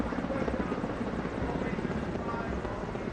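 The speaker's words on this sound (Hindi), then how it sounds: "आप देख सकते हैं चारों हेलीकॉप्टर की तस्वीरें हैं, सेना के हेलीकॉप्टर हैं" Four army helicopters fly in formation over Rajpath during the rainy Republic Day parade on 26 January, a loud, steady rotor thrum that holds throughout the clip.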